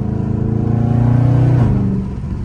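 A Dodge Scat Pack engine runs loud and close in traffic, its revs climbing into a steady drone that dips near the end; no talking.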